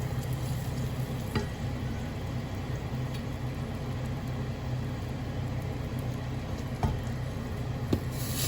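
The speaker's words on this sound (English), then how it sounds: "Put butter and tomato paste in the pot and stir well." Butter and tomato paste sizzle softly as they are stirred in a pot, a constant low frying hiss broken by a few light scrapes and taps.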